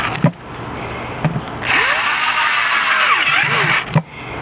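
A power drill bores 3/8 inch holes into a plastic bucket, whining steadily for about two seconds near the middle, with a few short knocks and handling bumps before and after.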